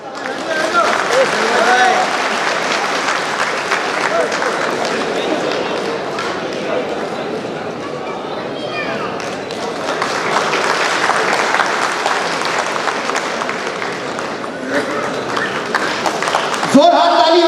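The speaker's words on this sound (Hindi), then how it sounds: "जोरदार ताली हो गया।" Sustained applause from an audience at an All India mushaira, a steady dense clatter of clapping that rises and falls across the whole stretch, with a brief sharp knock near the end.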